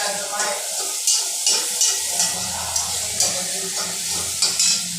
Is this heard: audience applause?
no